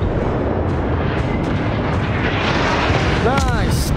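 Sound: warship naval guns firing, from video game World of Warships

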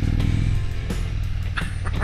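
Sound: 2021 Indian Roadmaster Elite motorcycle engine pulling away

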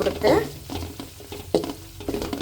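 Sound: curry leaves sizzling in hot oil with garlic

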